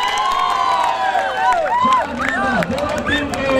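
Crowd at an outdoor volleyball match in Lucknow claps and cheers in a brief burst. An excited commentator talks loudly over the noise.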